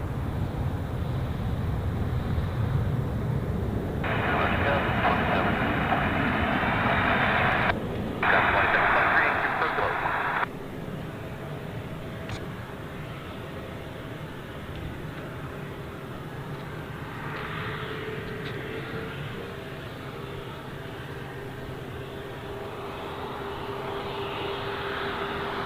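Airplane departing Ted Stevens International Airport, a steady distant engine rumble that swells briefly with a brighter roar early on, then fades into low background.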